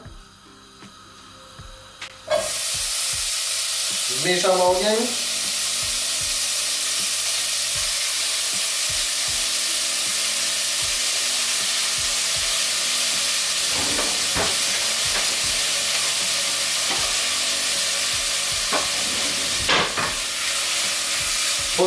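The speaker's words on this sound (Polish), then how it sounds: "Boczek pokrojony ląduje do garnka." Chopped bacon frying in a pot, a loud continuous sizzle after a clatter as the pieces drop in, with occasional scraping and a brief spoken remark.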